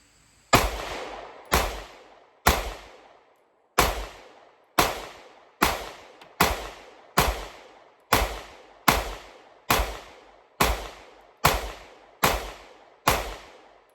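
Wilson Combat SFX9 pistol fired with a 15-round magazine at a range, a steady series of sharp, loud shots, about fifteen close reports spaced roughly half a second to a second apart, with a brief pause after the first three.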